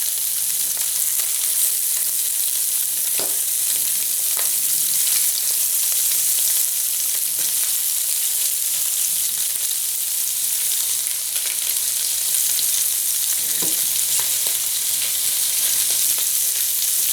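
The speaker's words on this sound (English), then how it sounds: "I've got a hot saute pan, a little bit of extra virgin olive oil in there. And when it's hot, I'm going to put all the shrimp right in." Shrimp sizzle in hot extra virgin olive oil in a saute pan, a steady dense frying hiss throughout with a couple of brief louder crackles, close and alone without talk.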